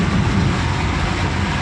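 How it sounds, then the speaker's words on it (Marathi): A metro train rumbles along an overhead line above a Pune road: a steady, broad, fairly loud roar with no break, heard from a vehicle on the road below. "हे वरून गेले मेट्रो."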